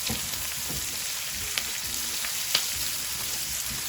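Onions sweating with a pinch of salt in a pan over a low flame make a soft, even sizzle with light crackle and a couple of faint clicks, steady throughout with no voices.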